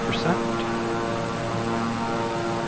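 Twin engines of a Beechcraft 350i in Microsoft Flight Simulator hum steadily at a constant drone, with a brief faint chirp near the start and no talking.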